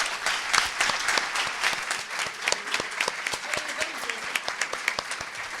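Audience applause at the opening of a popular communication congress at a public university in La Matanza, honouring a speaker named Sergio: dense, steady clapping from a hall crowd, loud and continuous for several seconds.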